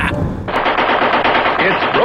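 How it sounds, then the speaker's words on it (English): A Mattel Thunderburp toy machine gun fires a loud, continuous rattling burst, harsh and close, holding steady for about two seconds. "It's the Mattel Thunderburp with the real vibrasonic sound chamber that's loaded forever and ever."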